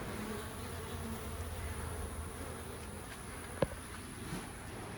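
A large mass of bees inside a hive gives a continuous, close buzzing drone with one sharp tap partway through.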